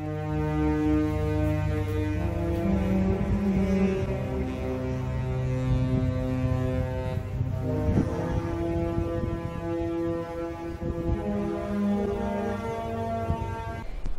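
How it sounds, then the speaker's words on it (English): The Sky Princess cruise ship's horn blows a recognizable tune while leaving port, loud and steady with long, deep, held tones stepping through the melody, ringing out over open surroundings with no talking. "He blows his horns loudly and proudly as we leave port."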